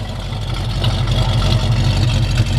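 A 1970 Chevrolet Camaro RS with turbo mufflers idling steadily, a rumbling deep low-frequency drone with a faint hiss above, running continuously without revving.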